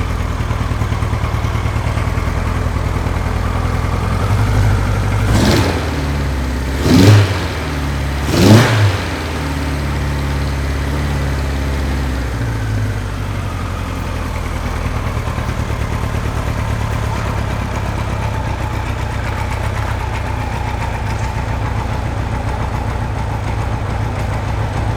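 A Kawasaki Z2 motorcycle engine idles loudly and steadily nearby, broken by three quick throttle blips that rise and fall around the seven-to-nine-second mark before settling back to a rumbling idle.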